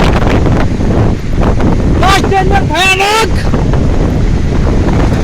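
Strong windstorm gusts roar past a moving car, a constant loud buffeting rush with a brief whistling, warbling tone in the middle, while a person speaks over it.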